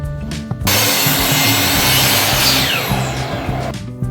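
Wood is sawn by hand to make a jig, with a fast, loud, rhythmic rasp of strokes close up, running continuously for several seconds with no talking.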